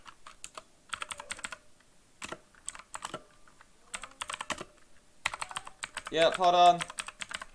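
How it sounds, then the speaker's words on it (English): Typing on a computer keyboard in bursts of quick, close clicks, with a person speaking briefly in between and a short louder tonal sound near the end. "just type this."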